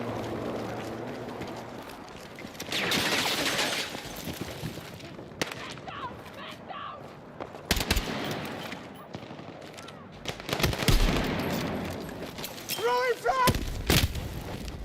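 Video game gunfire crackles in rapid bursts and sustained automatic volleys, loud and close, mixed with booming impacts while a player talks over the shooting.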